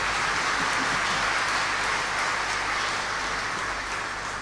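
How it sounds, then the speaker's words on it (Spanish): Loud, continuous applause from a congregation during a cardinal's homily at a novena for San Blas, honoring Paraguayan women. Dense clapping fills the whole four and a half seconds, with a low hum underneath. "se merece un aplauso a las mujeres paraguayas"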